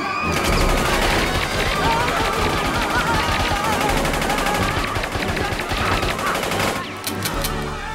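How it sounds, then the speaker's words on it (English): Sustained automatic machine-gun fire in a film action scene, a dense, loud, continuous rattle of rapid shots lasting several seconds before briefly easing near the end, with clattering debris underneath. "Use the machine gun!"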